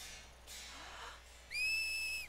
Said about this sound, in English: On the plus side, she can whistle now.